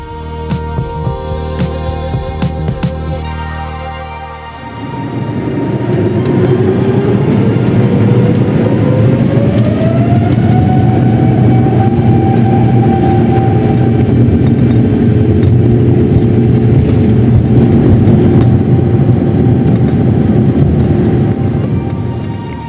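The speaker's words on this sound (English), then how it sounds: "At V1, our aircraft rotated into the crispy, clear morning over Chitose" A Japan Airlines jet on its takeoff roll and climb from Chitose on a clear morning, heard from the cabin: the engines spool up into a loud, steady roar with a rising whine that holds throughout.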